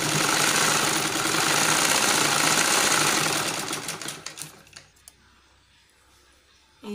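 Sewing machine stitching the shoulder seam of a blouse, a loud steady whirring run for about four seconds that slows, stutters and stops, leaving near silence.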